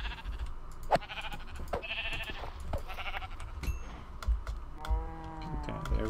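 Minecraft animals calling in short, quavering bleat-like moos, several separate calls spread across the moment, alongside sharp keyboard clicks and game sounds.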